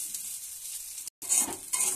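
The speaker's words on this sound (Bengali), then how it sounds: "দেখো বন্ধুরা, চাউমিনটা ভেজে নিচ্ছি এবার তেলের মধ্যে" Boiled chowmein noodles fry and get stirred in hot oil in a wok, giving a steady bright sizzle with a brief silent gap and then louder bursts of frying and scraping close by.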